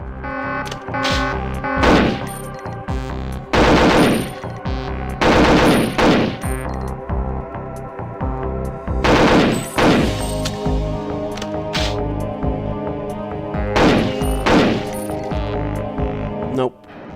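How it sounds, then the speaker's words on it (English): Automatic gunfire in the N64 game Perfect Dark, repeated loud bursts of rapid shots in irregular clusters over a steady game backdrop. "even a single tap sometimes it will fire 2 bullets"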